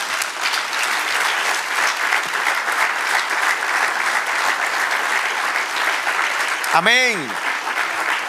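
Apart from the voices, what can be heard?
congregation applauding in church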